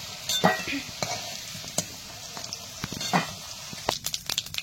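Potatoes frying in oil give a low continuous sizzle while a spoon repeatedly clinks and scrapes against the pan as they are lifted out, with sharper knocks near the end.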